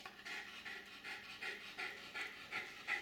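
An elderly Jack Russell terrier over sixteen years old pants rapidly and steadily up close, begging eagerly for breadsticks, with quick rhythmic breaths repeating throughout and no voices.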